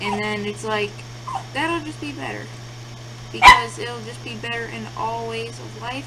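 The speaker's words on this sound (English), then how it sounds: "you could probably hear that yip in the background, because my dog doesn't know how to be quiet during a recording" A pet dog gives one short, sharp yip in the background midway through, standing out briefly over a person's steady close talking and a low electrical hum.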